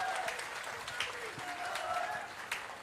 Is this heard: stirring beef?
no